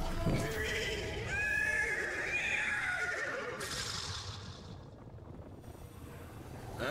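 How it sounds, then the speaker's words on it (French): A horse neighs loudly in the video game Destiny 2, a long shrill whinny over a steady background rumble that tails off into quieter ambience. "Le cheval est mécontent."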